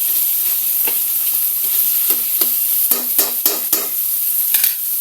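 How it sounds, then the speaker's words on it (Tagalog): Softened tomatoes cooking with ginger in a hot pan hiss in a steady, loud sizzle, with scattered soft scrapes and taps as they are pressed down. "I-press natin yung kamatis para mas lumasa."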